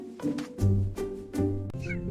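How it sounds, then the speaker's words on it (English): A pet cat meows three or four times in quick succession, close and clear, each call short and rising. "I care for my pet cat."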